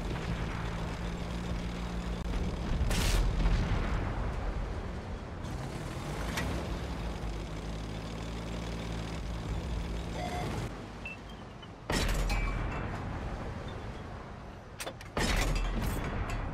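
Tank cannon blasts and artillery impacts in the World of Tanks video game, sharp loud bangs at irregular intervals over a continuous rumbling engine drone, with several heavy hits late on.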